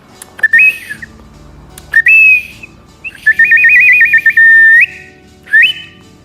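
An owl-shaped ocarina imitates bird calls in four bright, warbling whistled phrases. Three are short chirps and the third is a longer trilling run, each separated by silence and played close and loud.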